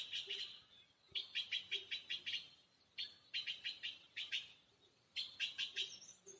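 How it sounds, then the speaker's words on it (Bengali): Small birds chirp in quick bursts of rapid, bright notes on a rest house lawn in the hills of Khirsu, Uttarakhand, in the early morning. The calls repeat clearly against a quiet background, and a soft low coo comes now and then. "সকালে শুধু পাখির আওয়াজ।"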